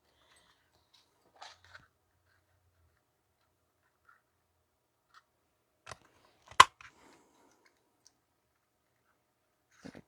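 Scissors snip through red and white glimmer paper at a craft table, giving a few sparse, crisp clicks with one sharp, louder cut near the middle, surrounded by near silence.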